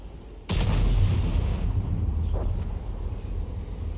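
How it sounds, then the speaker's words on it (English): An enemy artillery shell lands in a tank battle game, a single heavy boom that hits abruptly and rolls off into a long rumbling decay, with a muffled thud following. "That was an enemy Arty round landing"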